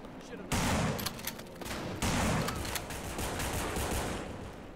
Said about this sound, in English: I can't hear you because there's so much gunfire